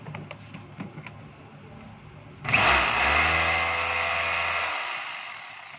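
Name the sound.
DeWalt D25032 rotary hammer running during a test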